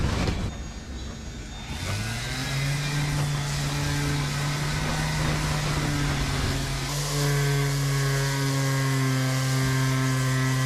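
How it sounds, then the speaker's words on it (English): A rotating file spins up and grinds spider cracks out of the gelcoat on a boat where the mast foot stands, producing a loud continuous high motor whine that steps up in pitch midway. "we grind out all the spider cracks in the gelcoat. We use a rotating file."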